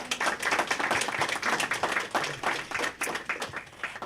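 A town hall audience at a forum on higher education gives a round of applause, many individual hand claps blending into a lively, uneven patter close by.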